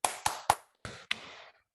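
A classroom of students claps together in a rhythm clap game, three quick claps then a pause and two more, crisp and fairly close, with no other sound around them.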